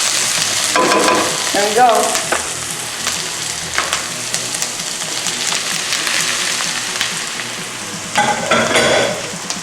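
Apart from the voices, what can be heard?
sausage frying and sizzling in pot with monggo soup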